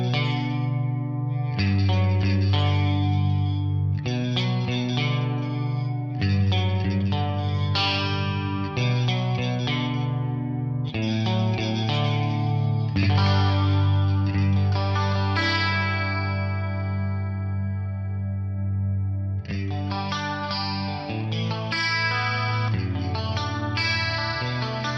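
Clean electric guitar through an analog mono chorus set to low depth, low delay time and a slow rate, playing sustained chords and arpeggiated notes with a shimmering, slightly wavering tone, solo and steady throughout.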